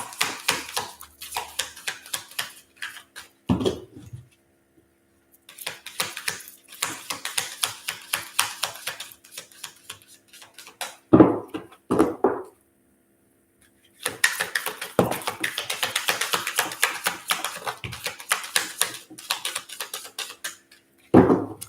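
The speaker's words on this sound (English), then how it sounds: "let's grab some Archangel cards for you guys." Archangel oracle cards are handled and shuffled up close, with long runs of rapid crisp flicking and tapping broken by short pauses and a few soft thumps.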